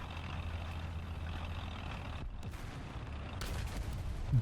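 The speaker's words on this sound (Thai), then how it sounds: "เนี่ยเวลาตายมันจะมีเสียงเครื่องยนต์อยู่" A deep, rumbling tank engine drones steadily in War Thunder from the M60 120S, a loud continuous low growl with a brief dip partway and a burst of sharp mechanical noise near the end.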